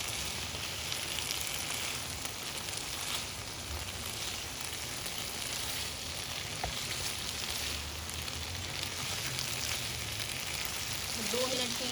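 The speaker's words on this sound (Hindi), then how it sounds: "तो 2 मिनट के लिए तेज़ आंच के ऊपर हम इसको भून लेंगे।" Malai boti chicken pieces sizzle and fry in a pan over a high flame, a steady dense crackle filling the whole stretch with occasional louder pops and faint stirring scrapes.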